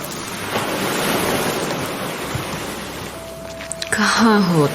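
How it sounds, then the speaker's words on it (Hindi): Sea waves wash against a seashore in a steady broad roar with wind buffeting the microphone, fading slightly before a voice begins speaking near the end over the surf. "जेनी बाहर निकलकर समंदर के किनारे पहुंच गई"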